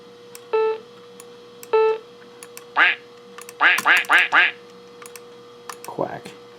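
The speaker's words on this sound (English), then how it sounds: "Quack." Repeated Macintosh quack alert sounds play from a PowerBook Duo 230, several short nasal quacks with a few in quick succession, mixed with beeps, clicks and key taps over a faint steady hum.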